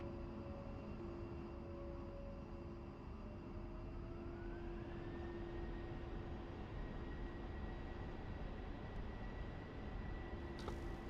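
A steady, distant engine drone from a simulated aircraft taxiing to the runway in a DCS or War Thunder flight simulator, with a tone that slowly shifts upward and no talking.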